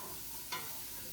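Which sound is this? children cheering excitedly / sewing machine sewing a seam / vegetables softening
vegetables softening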